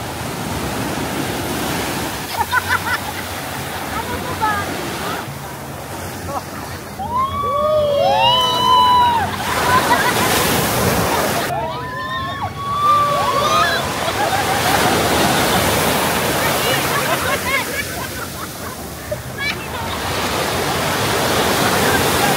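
Waves and surf at a beach in Batangas, with a steady broadband wash of water running throughout and people talking and calling out over it.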